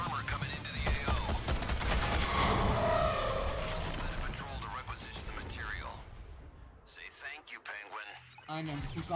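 Gunfire rattles through a busy firefight in the video game Suicide Squad: Kill the Justice League, dense and loud for several seconds and then thinning out, with people talking throughout.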